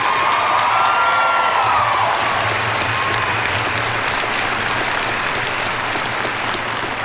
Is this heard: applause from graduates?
yes